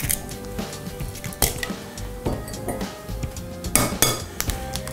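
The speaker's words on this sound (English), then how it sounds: "Lastly, we're gonna wanna take our 2 eggs, crack those into the batter." Two eggs are cracked against a bowl and dropped into beer batter, giving sharp taps and clinks scattered among other close kitchen clatter, with no talk.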